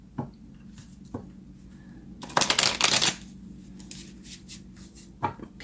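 Tarot cards being shuffled at a reading, with a dense, close riffling burst of about a second in the middle, and a few soft taps and card handling sounds before and after against a quiet background.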